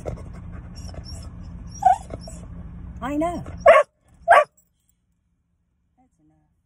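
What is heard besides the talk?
dog whining and barking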